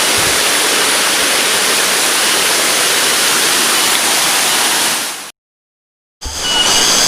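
Roaring broadband rush of the Cibarebe waterfall, about 110 meters high, in the interior of Subang, steady and loud for five seconds, then a sudden cut to silence before the roar returns.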